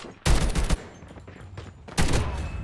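Two loud, close bursts of rapid video-game gunfire crackle out, separated by a short gap with fainter shots and noise between them.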